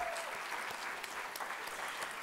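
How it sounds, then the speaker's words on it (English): Faint, distant applause from an awards ceremony audience honoring teaching artists, a soft continuous wash of clapping heard from afar without any voices over it. "Give another round of applause for our heartbeat teaching artists"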